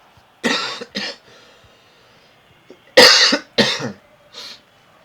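Several harsh coughs close by, two bursts in quick succession, a pause, then two more and a fainter final cough.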